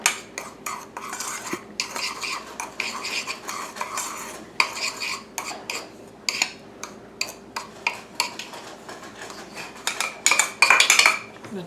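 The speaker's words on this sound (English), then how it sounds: "Just going to mix this right here up and try to get the lumps out of the flour." Flour is stirred in a bowl to break up lumps for Southern-style fried corn, with rhythmic scraping and clinking of a utensil against the dish, close and moderately loud.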